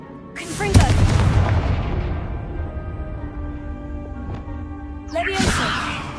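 The fiery Confringo spell goes off in Hogwarts Legacy with a sharp explosive crack and rumbling burst, trailing into a ringing tail, with another blast-like whoosh arriving near the end.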